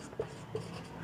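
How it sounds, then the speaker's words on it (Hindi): Pen or pencil writing notes by hand on paper, with soft scratchy strokes in short bursts and a few small taps, close and quiet in a calm room, without talk. "हम लोग सीधा लिखते हैं"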